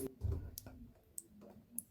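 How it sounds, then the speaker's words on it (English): Sparse, sharp drips of rain leaking inside a train carriage tap at irregular intervals, three or four distinct plinks over a quiet, low background hum. "Now that sound you can hear is the dripping rain."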